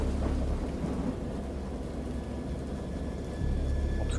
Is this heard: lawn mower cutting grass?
no